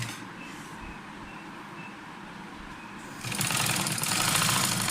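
A sewing machine stitches a seam in fabric, starting with a low hum and faint ticks, then running at full speed with a loud, steady whir in the last seconds.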